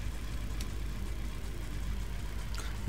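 A car engine idles steadily in the Ex Machina video game, a continuous low rumble that fills the whole stretch with no talk over it.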